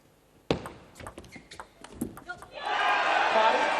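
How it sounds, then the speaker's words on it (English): A crowd at a women's table tennis quarterfinal of the 2023 World Championships: a few sharp knocks and thuds, then a loud, sustained roar of shouting spectators that swells and holds to the end. "Big shout from the crowd."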